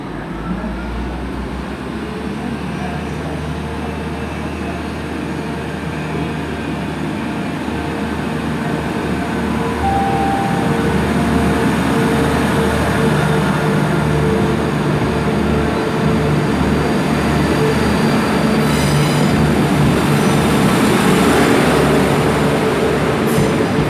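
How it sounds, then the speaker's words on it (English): Class 175 diesel unit 175101 pulls out of Shrewsbury station bound for Manchester Piccadilly. A steady, loud engine rumble builds slightly as it departs, with faint rail clatter and no voices. "about to depart out now is 175101 on its way to Manchester Piccadilly from Milford Haven"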